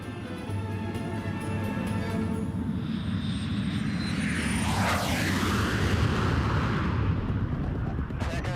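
Carrier aircraft in flight with a space plane slung beneath its fuselage; a loud, continuous engine roar rises and swells midway as it passes, with no talking.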